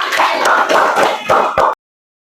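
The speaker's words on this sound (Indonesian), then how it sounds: "Oke, tepuk tangan dulu." Students in a primary school classroom clapping together, a dense burst of rhythmic applause with a few stronger beats before it cuts off abruptly.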